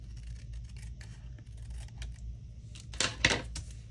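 Scissors cutting through planner sticker paper, a few quiet snips and crisp clicks, the sharpest burst coming near the end over low background hum.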